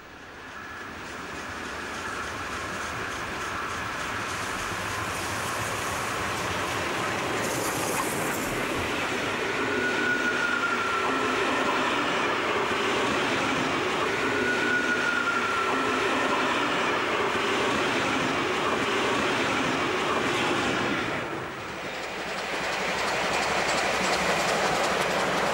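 A DB class S 3/6 steam locomotive train runs past with a steady rolling rumble and clatter of wagons, broken by brief whistle-like squeals, loud and sustained throughout.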